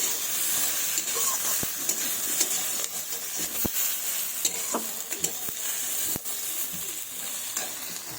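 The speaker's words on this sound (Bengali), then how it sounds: "তো আমার আলু বেগুনগুলো ভাজা হয়ে গেছে এবার আমি তুলে নেব" Potato and eggplant pieces fry in oil in a wok. There is a continuous close sizzle with sharp clicks and scrapes as a utensil stirs and lifts them.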